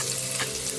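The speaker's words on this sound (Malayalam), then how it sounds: "നന്നായി ചൂടായ വെളിച്ചെണ്ണയിലേക്ക് ചെറിയുള്ളി അരിഞ്ഞത് ചേർത്ത് കൊടുക്കാം" Chopped shallots fry in hot coconut oil, a close, steady crackling sizzle with a faint stir, no voices.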